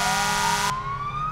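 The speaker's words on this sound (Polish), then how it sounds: "Weźcie, wyłączcie te syreny." Emergency sirens blare in a Roblox firefighting roleplay set in Międzyzdroje, one loud tone cutting off abruptly while another keeps wailing and slowly rising, over a low rumbling bed and without any speech.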